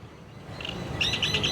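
Bird calls from a gathering of crows, a few quick bright chirps rising over a faint background, short and fairly close.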